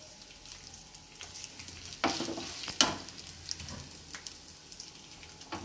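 Cashews, curry leaves and dried red chillies go into hot oil together for coconut rice, giving a soft steady sizzle with a couple of louder crackling bursts in the middle, fairly quiet and free of talk.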